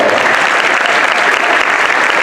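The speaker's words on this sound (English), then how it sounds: "let's give him a round of applause." Steady, dense applause from a band concert audience fills the room at full volume, a continuous wash of many hands clapping with no break and no talk over it.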